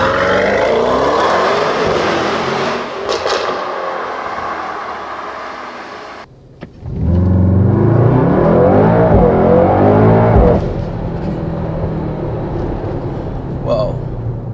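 A 2019 Mercedes-AMG GT63 S 4-door coupe in Sport Plus mode accelerating hard, its engine roaring loudly with climbing revs and a brief shift break, heard from inside the cabin.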